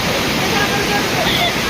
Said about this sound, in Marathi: आदराई जंगल ट्रेकचे फायनल पॉईंट म्हणजे हा वॉटरफॉल